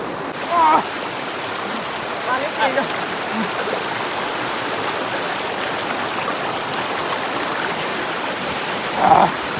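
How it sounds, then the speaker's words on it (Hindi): Steady rushing river water flows continuously with a broad hiss, like a stream over rocks, in a jungle, with faint voices briefly audible beneath. "यहाँ पे पानी देखिए कितना मज़े से बह के जा रहा है"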